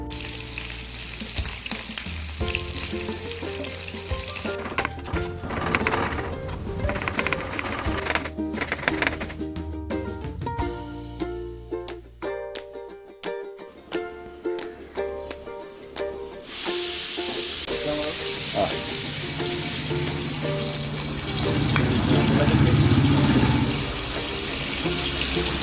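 Fish frying in a pan, dense crackling sizzle throughout with bursts of spattering and stirring clatter, loud and close, steady hiss swelling toward the end, no voices.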